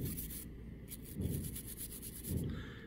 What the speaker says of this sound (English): I'm going to put a little solvent on it. And I'm just going to start